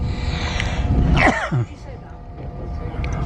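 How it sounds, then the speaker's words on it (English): A single sharp sneeze bursts out over background chatter, followed by quieter room noise. "Bloody masks make me sneeze."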